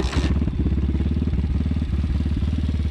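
Apollo RXF 150 dirt bike, a 2022 model with about 35 hours on it, kicked to life and settling into a loud, close, steady pulsing idle with a brief sharp rasp at the start.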